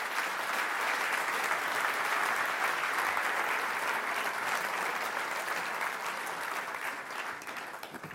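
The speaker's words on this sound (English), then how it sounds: "So give them a round of applause, please." Sustained audience applause for manufacturing panel speakers at a national conference, a thick, even wash of many hands clapping that holds strong before easing slightly near the end.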